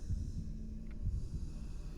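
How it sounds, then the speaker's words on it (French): Heartbeat in the video game Boris and the Dark Survival, a fast low thumping pulse repeating in quick pairs under a faint hum, with no talking. "J'entends mon battement de cœur"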